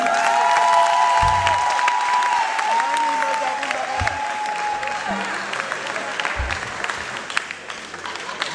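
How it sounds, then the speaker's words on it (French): Sustained applause from a live jazz concert audience at the Institut Français de Kinshasa, a dense wash of clapping with some cheering, while brief low thumps and a sliding tonal line sound above it. "sous vos applaudissements."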